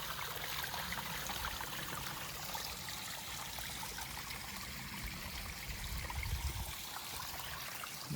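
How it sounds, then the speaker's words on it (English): Small trickling water source beside the Appalachian Trail, a faint, steady babble and dribble of water in a quiet woodland setting. "Nice little water source."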